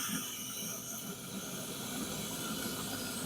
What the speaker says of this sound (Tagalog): Kumukulo na siya kung naririnig nyo.